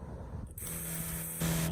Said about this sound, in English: you can really hear how that's spraying out a lot harder